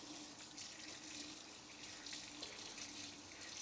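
Kitchen tap water runs steadily into a sink while a sponge is rinsed of vinegar, a soft continuous hiss and splash with small fluctuations, quiet and alone with no talking.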